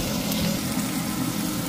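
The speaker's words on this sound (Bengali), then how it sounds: "এখন এখানে দিয়ে দিচ্ছি আগে থেকে কেটে রাখা আদা এবং রসুনের কুচি।" Chopped ginger and garlic fry in hot oil for an orange chicken recipe, giving a steady, fairly loud sizzle that is close and continuous, with no talking.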